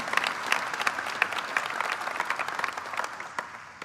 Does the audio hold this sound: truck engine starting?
no